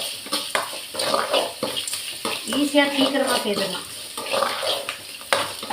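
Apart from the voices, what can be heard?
tomatoes sautéing in a pan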